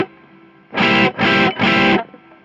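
Electric guitar with overdrive and a light reverb splash through an STL Tone Hub, three sustained distorted strums in quick succession with brief gaps between them.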